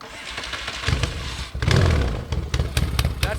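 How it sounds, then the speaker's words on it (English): A 1979 Yamaha XS650 motorcycle cranks on its electric starter and fires up, the engine catching with uneven, rumbling bursts and settling into a lumpy, close-up idle with clattery pulses. "That's the electric start."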